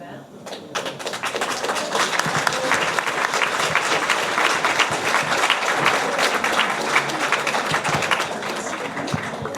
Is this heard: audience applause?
yes